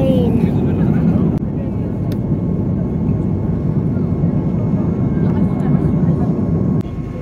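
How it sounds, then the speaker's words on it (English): A steady low roar of an aircraft engine passing overhead, continuous and fairly loud throughout, with faint background movement. "Ooh, it's a plane."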